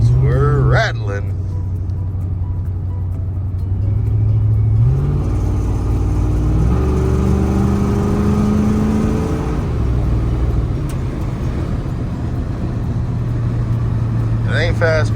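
A 1985 Chevrolet C10 pickup engine droning and climbing in pitch as it accelerates while driving, with a rising rev through a gear change and a steady road rumble afterward, loud and close.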